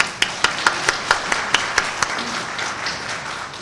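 About ten sharp, evenly spaced claps ring out at a ceremony, followed by a softer, looser patter of scattered applause from the audience.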